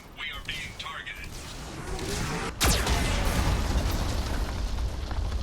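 A Geth cannon in the Mass Effect 2 video game fires, setting off a sudden heavy explosion partway through that trails into a loud, rumbling roar. A voice is heard briefly at the start.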